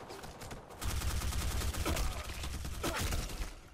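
Rapid bursts of gunfire crackle repeatedly in the video game Black Squad, dense and continuous like a firefight, with a couple of whooshing sweeps over the shooting.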